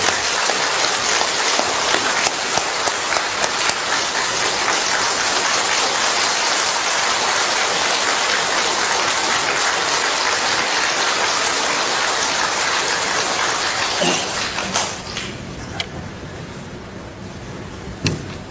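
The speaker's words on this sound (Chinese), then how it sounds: "那么我们以热烈的掌声，恭请刘善人给我们做报告" A large audience at a lecture forum breaks into warm, dense, sustained applause that fills the hall for about fourteen seconds, then thins into scattered claps and fades.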